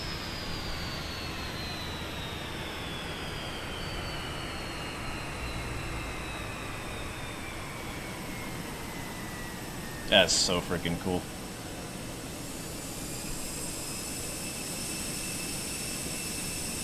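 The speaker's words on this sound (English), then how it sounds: "You can hear the APU." An airliner APU hums steadily in Microsoft Flight Simulator, a constant whining jet drone with a slowly falling tone, as someone speaks briefly over it partway through.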